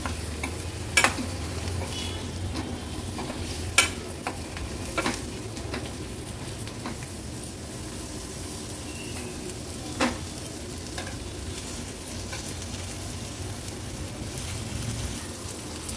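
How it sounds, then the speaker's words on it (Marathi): Continuous sizzle of spiny gourd sautéing in oil and spices, with occasional sharp clicks of a spatula against the pan over a steady frying hiss. "कंटोळी पण मसाल्यांमध्ये छान आपल्याला परतून घ्यायची आहे।"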